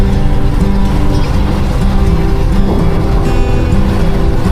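Steady roadside traffic beside the NLEX expressway, cars and trucks rumbling past in a continuous loud drone with a low engine hum, no distinct pass-bys standing out.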